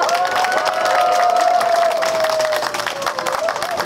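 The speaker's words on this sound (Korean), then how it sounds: "박수로 모시겠습니다" A rally crowd in Daegu protesting the Fukushima contaminated water discharge breaks into applause and cheers, a steady wash of clapping with a sustained tone riding over it, then it thins toward the end.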